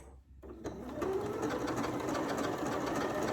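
A Janome MC9450 sewing machine stitches through batting, starting after a brief silence into a fast, steady, close mechanical chatter that holds evenly to the end.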